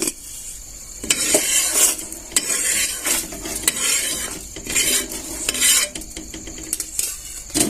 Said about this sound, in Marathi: थोडस तेल घालून घेऊया काढून घेऊया छान असं भाजून झालं